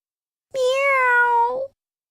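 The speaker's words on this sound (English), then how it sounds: "Mr. and Mrs. Green's cat was hungry" A single drawn-out cat meow, loud and close, rising slightly then falling, lasting about a second, with silence before and after.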